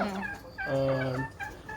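Desi laying hens cluck and squawk close by, with a drawn-out, tonal call in the middle and shorter clucks around it, and no voices.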